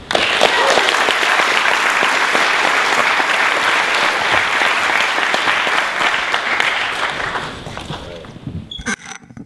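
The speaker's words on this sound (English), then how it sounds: "Let's have a big round of applause for Brian Short." A large audience at an Ignite talk event in Ann Arbor claps and cheers loudly and steadily, the applause fading out near the end.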